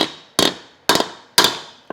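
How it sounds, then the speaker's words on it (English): Hammer blows on folds of steel sheet to shrink the metal for custom car bodywork, three sharp ringing strikes about half a second apart, then a lighter tap, loud and close. "when you're hammering these folds in"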